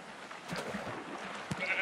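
Sheep bleating in Minecraft, a dense crowd of bleats layered over one another at moderate loudness, with a few sharper calls standing out amid the steady flock noise.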